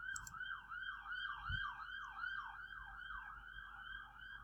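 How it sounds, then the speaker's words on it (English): A wailing ambulance siren sweeps up and down in a steady repeating rhythm, clear and fairly loud at a Red Sox versus Tampa Bay Rays opening day game on 4th Street in 2018, with no talk over it. "And right on cue, we have an ambulance."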